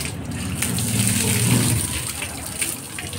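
Water pours and splashes steadily during a bath, a close, continuous gushing that swells slightly around the middle, with no speech.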